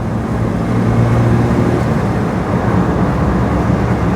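Engine of a cheap £200 car pulling away, a steady loud rumbling drone with constant low hum throughout, close and continuous without speech.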